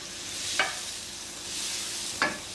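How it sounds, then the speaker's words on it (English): Abalone (paua) frying in a pan of oil and butter, giving a steady soft sizzle with two brief louder bursts as the pan is moved. "just pop the abalone into the pan and just a little bit of butter on one side of it"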